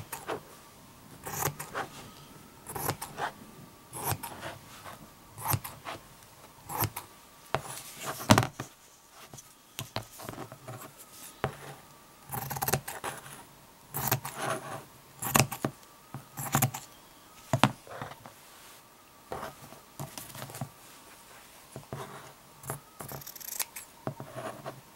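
Scissors snip repeatedly through lettering material, cutting out custom letters for nursery wall decor. The clipped cuts come close and fairly soft in an irregular run of short bursts over a quiet background.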